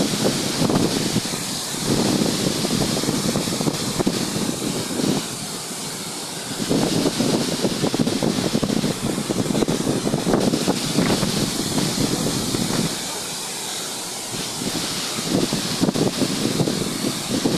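Strong wind roaring steadily against the microphone near a waterfall in Pangil, Laguna, a dense buffeting rush that eases briefly twice before surging back.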